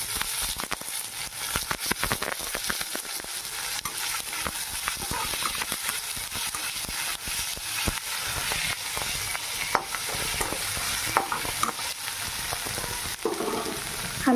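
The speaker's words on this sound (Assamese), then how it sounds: "পিঁয়াজখিনি ভজা হৈ গ'ল, আলুখিনি দি দিম এতিয়া।" Potatoes sizzling and frying with onions in hot mustard oil, a dense continuous crackle with frequent scraping and clinking of a spoon stirring the pan throughout.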